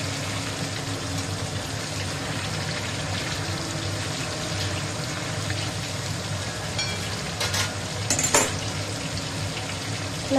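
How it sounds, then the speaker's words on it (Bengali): Pieces of fish fry in a little oil in a home kitchen, giving a steady, close, hissing sizzle that runs throughout with a few brief sharper crackles near the end. "মাছটা ভাজা হচ্ছে।"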